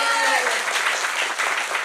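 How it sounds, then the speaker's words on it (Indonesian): An audience at a cultural training event for pencak silat practitioners breaks into brief, loud applause, with a voice and crowd noise mixed in at the start. "Tepuk tangan dong."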